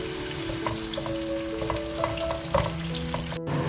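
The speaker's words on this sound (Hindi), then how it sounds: "थोड़ा सा ऑयल को हम गरम करेंगे, प्याज ऐड करेंगे। प्याज को हम ब्राउन कर लेंगे" Onions fry in hot oil for a dum chicken recipe, a close, continuous sizzle and crackle with a few stirring scrapes.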